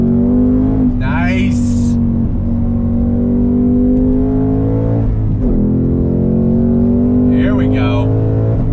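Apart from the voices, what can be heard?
2021 Ford Mustang Mach 1 accelerating from a dead stop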